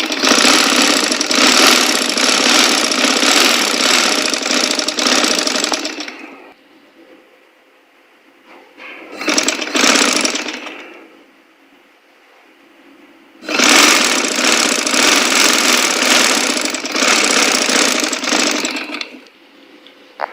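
Sewing machine stitching cloth for a Quran cover, running in two loud, sustained bursts of rapid mechanical whirring separated by quieter pauses with a short spurt in between.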